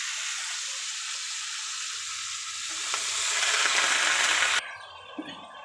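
Bottle gourd greens sizzle and fry steadily in a pan with turmeric, a loud broadband hiss that swells near the end before dropping off suddenly, leaving softer stirring and faint clinks.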